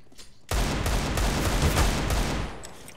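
Video game gunfire breaks out after a brief quiet moment as a dense, loud, continuous burst of rapid shots lasting about two seconds, then tails off.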